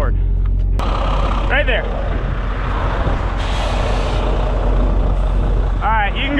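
A heavy truck pulls forward onto blocks with a loud, steady diesel rumble throughout, a brief air-brake hiss, and squealing brakes near the end, with a voice speaking briefly over the engine.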